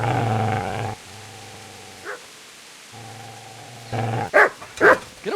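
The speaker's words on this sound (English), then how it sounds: "Get away, you mutt!" A dog barks and growls in Kingdom Come: Deliverance, with loud harsh bursts at the start and end over a low game hum, separated by quieter stretches.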